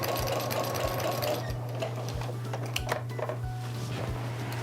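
A sewing machine fitted with a walking foot stitches binding onto a quilt, giving a steady close mechanical whir with rhythmic ticking pulses that continue throughout.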